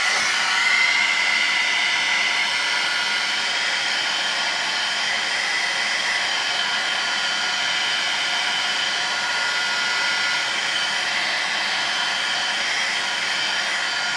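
A hair dryer blows a steady, even roar for the whole stretch while drying a collage page in an art journal. The sound is close and continuous, with no talking over it.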